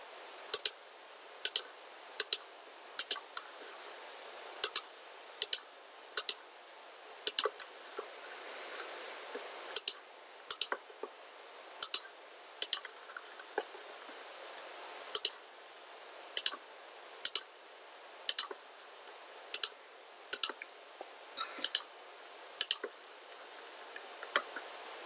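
A computer mouse clicking while working in ProtaStructure structural design software, with sharp, close single clicks repeating at irregular intervals over a quiet background.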